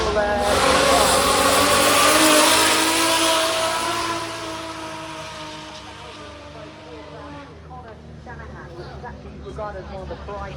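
A drift car engine revs hard at Goodwood 2024, loud and close with a hissing roar that fades as the car moves off, while a commentator talks over it.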